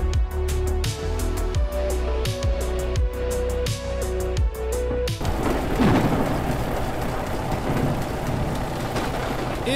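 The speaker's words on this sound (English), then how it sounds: "It is thunder snow out here." In a snow plowing simulator game, a deep rolling crack of thunder erupts during a snowstorm, breaking over the steady droning hum of a plow truck engine and rumbling on loudly to the end.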